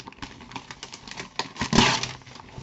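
A cardboard parcel being torn open by hand, a run of scratchy rips and rustles that builds to one loud tearing burst near the end.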